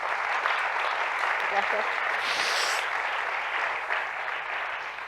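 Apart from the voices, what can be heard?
audience applause for the two speakers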